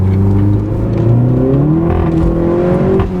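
A car accelerates hard on a test drive, its engine climbing steadily in pitch through rising gears, loud and close from start to finish with no talking.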